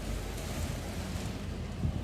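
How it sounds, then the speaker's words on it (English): Dense, roaring rain driven by gusting wind, falling sideways, a constant heavy wash of noise buffeting the microphone with no voices. "It's like raining sideways."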